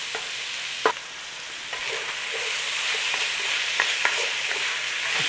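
Onion frying in a pan for a beef and bean chili gives a loud, continuous sizzle and hiss, broken by a few sharp clicks from stirring.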